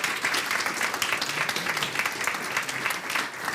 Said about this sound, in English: Let's have a round of applause for our participants.